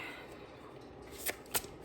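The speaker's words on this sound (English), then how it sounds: "I'm going to try to shuffle this huge deck." Large deck of tarot cards being shuffled by hand: soft continuous riffling and sliding, broken by three crisp snapping bursts near the end, quiet and close with no speech.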